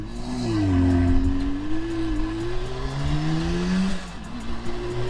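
A 1977 Suzuki GT250 motorcycle fitted with Micron exhausts revs up while riding, its engine pitch climbing and sagging in a loud, close drone before easing off near the end.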